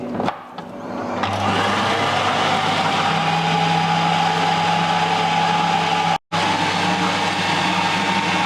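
Eggs being mixed into cake batter as a steady mechanical whir runs almost without pause, briefly cutting out once before resuming at the same level.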